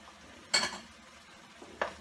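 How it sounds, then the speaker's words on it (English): Red chili powder and turmeric for a prawn masala are stirred in a frying pan, with two quick scraping strokes against the pan, close and clear over faint background hiss. "I'm going to stir that quickly because I don't want the dry spices to start burning"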